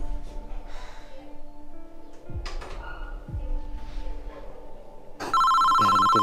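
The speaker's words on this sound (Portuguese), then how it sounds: "Pera, meu telefone tá tocando." A mobile phone rings loud and close, a steady electronic ringtone that begins near the end after quieter indoor sounds.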